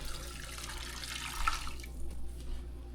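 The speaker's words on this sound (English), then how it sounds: "I'm gonna add in about 4 to 5 cups of hot water." Hot water poured into a pot of Jamaican brown stew chicken with carrot and bell peppers, a steady close splashing and gushing for about two seconds that then thins out to a faint trickle.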